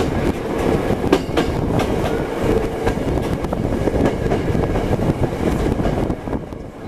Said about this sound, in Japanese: 畑の間を抜けながら電車は犬吠駅に着きます。